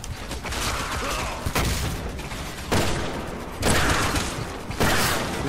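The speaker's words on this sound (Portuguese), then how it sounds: "Deu um tiro nele." Gunfire in Resident Evil 6 on the No Hope difficulty during Leon's campaign: loud, dense bursts of rapid shots and booms in several waves, with brief pauses between volleys.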